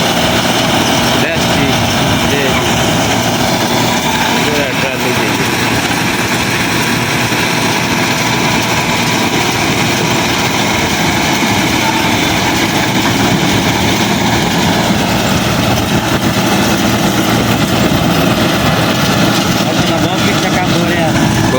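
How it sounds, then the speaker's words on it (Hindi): A Massey Ferguson MF 113 tractor engine runs continuously with a steady rumbling drone throughout, close by and unbroken. "ट्रैक्टर"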